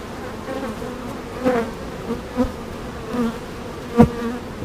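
Honey bees buzzing around a hive box after a swarm capture, a soft continuous drone with a few louder individual bees passing close by, no voices.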